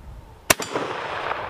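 One sharp, loud gunshot from an M91 Carcano cavalry carbine in 6.5 Carcano, a sudden crack outdoors followed by a brief echo and a lingering wash of ambient noise.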